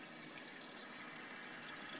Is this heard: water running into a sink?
yes